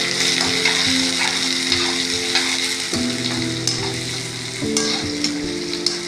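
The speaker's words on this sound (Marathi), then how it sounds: "आता कांदे मस्त फ्राय होऊ द्यायचे आपल्याला" Onions fry in a pan with a steady, close sizzle, broken by occasional stirring clatters and a low background hum.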